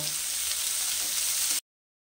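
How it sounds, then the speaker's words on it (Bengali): Chopped onions frying in oil with black cumin seeds, a steady close hiss of sizzling that runs for about a second and a half and then cuts off abruptly to silence. "পেঁয়াজটাকে একটু লাল লাল করে ভেজে নেব"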